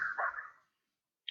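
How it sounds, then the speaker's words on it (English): Security dogs bark in the background: a short burst of barking fades out, followed after a pause by a single brief yip, all faint and distant. "I got the security dogs that are barking in the background"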